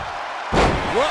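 A wrestler hits a monkey flip slam in the WWE 2K23 video game during a hardcore steel cage match: one sudden, heavy thud of a body landing, followed by arena crowd noise.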